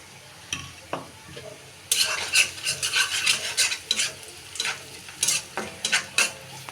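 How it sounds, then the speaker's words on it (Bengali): Fried snakehead fish and potato pieces stirred in a pan, a quiet start giving way to repeated scraping and rattling strokes with a soft sizzle underneath, close and fairly loud. "শোল মাছটা আলু দিয়ে ভুনা করব।"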